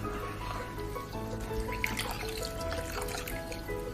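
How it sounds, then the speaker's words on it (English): Water trickling and dribbling into a bowl of rawa dosa batter made from semolina and onion, a steady close pour that runs for a few seconds against faint kitchen background hum. "Add little bit of water at time, so that because we don't want lumps into our mixture."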